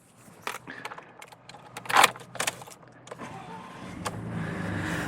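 Keys jangle in a bright, close burst inside the cab of a Ford F-150 XL pickup with a modded 2.7L engine, surrounded by scattered clicks and rustles from the quiet cabin, with a low hum rising toward the end.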